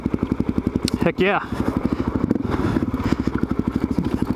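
A supermoto or enduro motorcycle engine idles and revs with a steady, rapid pulsing throb close by, with a brief burst of speech over it.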